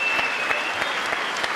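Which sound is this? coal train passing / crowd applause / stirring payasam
crowd applause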